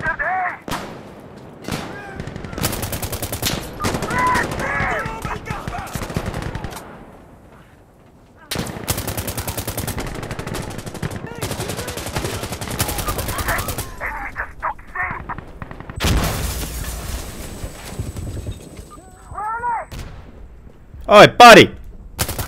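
Bursts of rapid automatic gunfire from a drum-magazine weapon ring out loudly in a video game, broken by short pauses, with a voice calling out between volleys.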